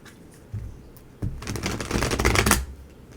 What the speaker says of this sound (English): One more good shuffle. Let's see if we can't mix these cards up better.